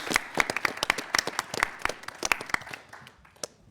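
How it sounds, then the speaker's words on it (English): Audience applause at a Texas middle school quiz show finals, a short burst of sharp, separate claps from a modest crowd that thins out toward the end. "Round of applause."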